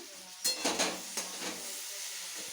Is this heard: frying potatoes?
yes